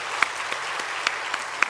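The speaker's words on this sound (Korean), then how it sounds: "다시 한번 감사의 박수 해주시면" A church congregation at a Wednesday evening dedication service claps in thanks for a pastor, a thin scattering of distinct individual claps over a soft room background.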